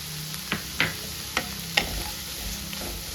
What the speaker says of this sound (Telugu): ఇవి వన్ మినిట్ వేయించుకోవాలి బాగా చింతపండు కూడా మెత్తబడిపోతుంది